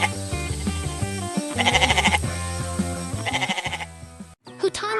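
A white goat bleats several times behind a wooden fence on a farm, its calls rising over cheerful background music with a bright, steady beat.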